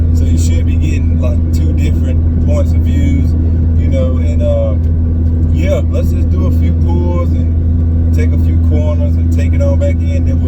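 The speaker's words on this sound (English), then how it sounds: "y'all want to hear some VTEC" A car engine revving hard toward VTEC, a steady loud mechanical drone with strong low hum and road noise throughout, with voices heard faintly over it.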